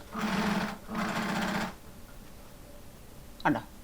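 A sewing machine stitches a pleated nightie in two steady runs of about a second each, close and moderately loud, separated by a short pause, followed by a brief squeak near the end.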